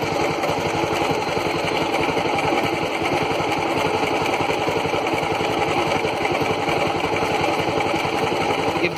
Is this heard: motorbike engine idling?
yes